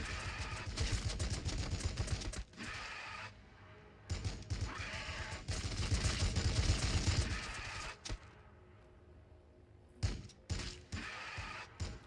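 Dense bursts of rapid automatic gunfire and heavy shots from Warhammer 40K Battlesector, loud and near, coming in long volleys broken by short pauses, with mechanical clanks between them.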